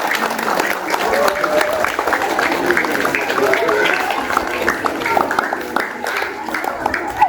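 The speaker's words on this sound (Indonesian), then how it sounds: "Tepuk tangan untuk Farzan kelas 1" Elementary school crowd at a National Education Day flag ceremony applauds a first-grade winner of best traditional costume, a sustained mass of clapping with children's voices and chatter mixed through it.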